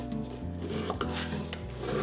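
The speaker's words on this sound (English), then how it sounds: "give it a little stir with our spoon" A spoon gently stirs a mint julep over crushed ice, making a soft, continuous rubbing scrape with a couple of faint clinks. The sound is quiet and close, with no voices.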